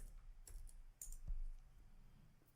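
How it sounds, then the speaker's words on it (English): Typing a short command on a computer keyboard, several light scattered key clicks at close range, faint and sparse against a low background hum, with no speech. "Now I'm going to type in npm install."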